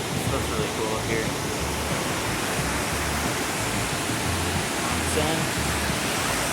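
Kegon Waterfall in Nikko, Japan, roars as a steady, broad rush of falling water heard from a viewpoint above, continuous and even throughout with no clear voices over it.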